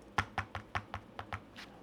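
Keys on a computer keyboard resting on a desk pad are struck in a quick run of about eight close, soft, even taps, with no talk.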